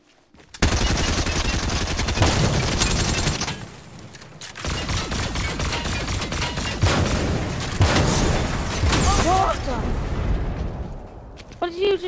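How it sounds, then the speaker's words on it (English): A car blown up in a video game: a loud, dense burst of explosion with crackling, gunfire-like pops that rolls on and then rises again, fairly close and busy throughout. "I blew up my car, breaking up. Big explosion."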